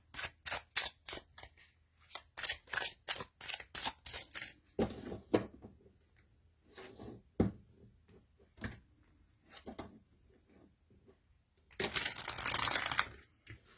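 Crisp rapid snaps of tarot cards being shuffled, overhand then side riffle, a quick burst of flicks, then slower handling, and a final dense riffle.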